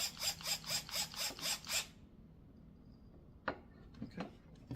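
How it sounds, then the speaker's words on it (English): A screwdriver tightens a screw on a wooden kids table, giving a quick run of about seven evenly spaced ratcheting clicks, followed by a pause and a few scattered faint knocks. "we're just going to give that a quick little tighten down"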